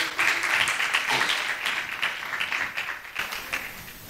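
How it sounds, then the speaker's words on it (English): Conference audience clapping steadily for a speaker being introduced, a dense, even patter of many hands that fades slightly toward the end, with no talking over it. "Keep the claps going."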